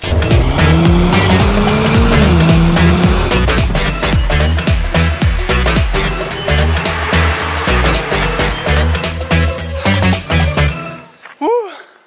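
A Mercedes-AMG four-cylinder car accelerating hard, engine loud and close with rising revs and quick gear changes over several seconds, then cutting out near the end as a short tire squeal rises.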